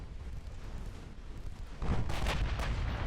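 Warships' secondary guns fire in the naval video game Ultimate Admiral Dreadnoughts, a low rumble of distant gunfire that swells into a louder booming burst near the end.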